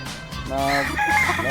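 Gamefowl rooster on a game farm crowing once nearby, a full cock-a-doodle-doo lasting over a second, with faint clucking around it.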